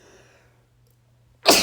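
A single sharp, close sneeze bursts out abruptly after a near-silent pause with only a faint low hum.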